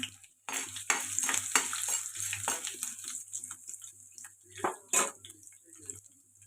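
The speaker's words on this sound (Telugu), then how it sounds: "ఇవి కొద్దిగా ఫ్రై అవ్వాలి దంచి పెట్టుకున్న వెల్లుల్లి అయితే వేసుకోవాలండి" Ivy gourd frying in a pan with crushed garlic, with a soft sizzle under repeated clinks and scrapes of a spoon against the pan, close and uneven.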